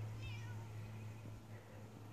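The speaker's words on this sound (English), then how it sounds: "Oh, here comes a barn kitty" A barn cat on a farm meows once, quiet and brief, over a steady low hum.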